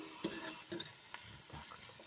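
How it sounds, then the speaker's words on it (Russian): Onion frying in a pan for a salad, heard as a faint, soft sizzle broken by a few light scraping and stirring clicks close by, with no talking. "И сейчас будем обжаривать. И обжариваем наш лучочек"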